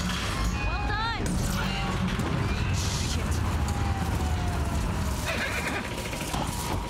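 A horse whinnies sharply near the start amid loud, busy game noise from The Last of Us Part II, with people talking over it.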